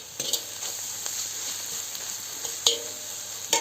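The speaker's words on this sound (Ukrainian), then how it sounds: "І будемо додавати томатний соус до зажарки." Vegetables fry in a pan for a Ukrainian cabbage-roll sauce, giving a steady close hiss with a few sharper crackles and stirring clicks as homemade tomato sauce is added; no voices.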